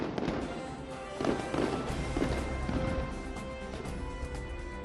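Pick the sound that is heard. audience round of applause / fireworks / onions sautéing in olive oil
fireworks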